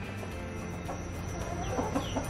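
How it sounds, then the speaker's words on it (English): Soft clucking from a few chickens nearby, short murmured calls scattered over a low steady background hum. "my chickens weren't outside of my front door in my patio"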